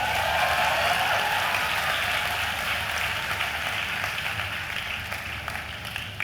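Dense crowd applause at the opening of Festival Kampus Merdeka 2022 in Indonesia, loud and continuous at first, gradually thinning and fading toward the end.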